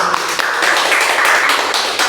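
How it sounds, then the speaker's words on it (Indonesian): An audience applauds at the close of a talk, dense steady clapping that stays loud and close from start to finish. "Mari kita aplaus untuk kita semua"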